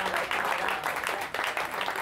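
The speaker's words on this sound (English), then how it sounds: "Round of applause." Applause from an audience at a Vision Zero Cincinnati event fills the room, a steady, dense wash of many hands clapping at close range, with faint voices mixed in.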